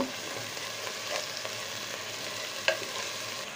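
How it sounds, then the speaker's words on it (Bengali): Spices and ginger frying in a pan for a chicken and taro curry, a low steady sizzle with light stirring scrapes and one brief sharper clink. "ভালো করে মশলা ভাজতে হবে"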